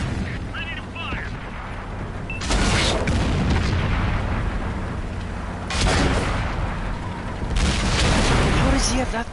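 World of Tanks battle: three heavy tank cannon shots land as loud, spaced booms with long rumbling tails, with speech underneath throughout.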